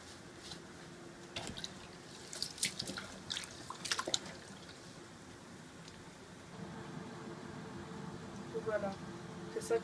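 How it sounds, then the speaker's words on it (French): Rice is washed in water for a thieboudienne-style rice dish. Irregular drips, splashes and sloshing come close by, clustering in a few busy bursts, with a voice faintly present in the background. "on va laver le riz pour pouvoir le corriger"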